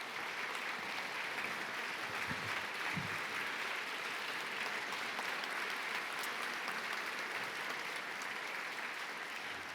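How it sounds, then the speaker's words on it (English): Applause at the APA Heritage Awards 2022 as representatives and consuls general stand, a steady, fairly faint wash of clapping from a distant audience that stays even throughout. "For those representatives and council generals, please stand for a round of applause."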